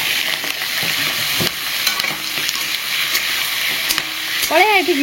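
Large prawns fry in a pan of hot oil for an Odia prawn curry, a steady crackling sizzle with stirring scrapes running throughout while someone talks over it.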